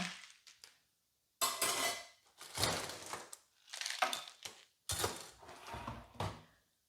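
A spoon stirs iced espresso in a glass, sending out bursts of close clinking and rattling ice in several loud strokes with short pauses between them.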